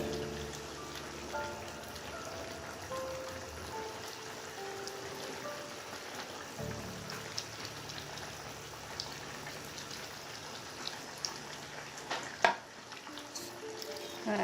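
Hilsa fish pieces go into a boiling potato and cauliflower curry, producing a soft, steady bubbling hiss with a dull thump as the fish drops in and another clunk near the end.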